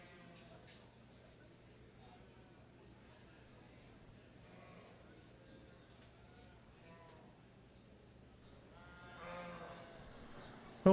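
Sheep bleat now and then in a 4-H show arena during judging, faint calls from several animals under a quiet murmur of voices and arena noise, with a louder bleat near the end.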